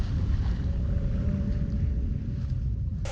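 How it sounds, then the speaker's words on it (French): Sailboat beating close-hauled at about six knots across a calm sea in light wind, with a steady, continuous rush of wind and water close by and no voices. "On peut faire de la voile au près serré, à 6 nœuds, parce que les voiles donnent magnifiquement bien."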